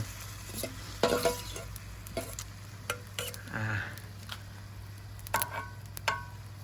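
Sauce ladled over crab baking with glass noodles in a hot pot: sizzling hiss with scattered clinks and scrapes of utensils against the pot, close and intermittent, no talking.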